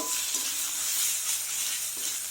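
Katla fish with cumin and other ground spices frying in a pan, a soft steady sizzle with a couple of light stirring scrapes, close and quiet with no talk.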